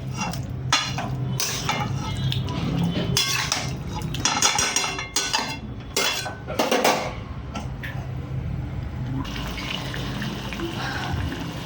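Prawns are added to a simmering jackfruit curry in a pot, with clattering utensil knocks against the pot, wet stirring and liquid sloshing, then a steadier bubbling simmer.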